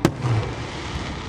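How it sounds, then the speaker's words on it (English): Fireworks at Grand Casino Hinckley give one sharp, loud bang at the start, followed by a rumbling, crackling tail that fades slowly, with no talking. "Lots of fireworks."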